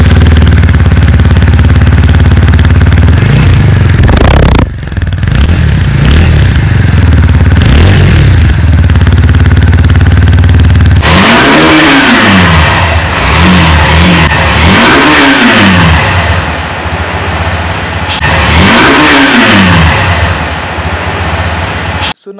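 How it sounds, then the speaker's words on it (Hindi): A TVS Apache RTR 160 4V motorcycle idles loudly up close and then revs repeatedly, its exhaust note rising and falling in several sharp throttle blips, with some talk mixed in. "so now let's hear the exhaust note of both the bikes पहले अपाचे की"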